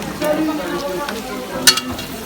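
Food sizzles in hot frying oil in a kitchen, a steady crackling hiss with a few sharper pops, heard close and moderately loud.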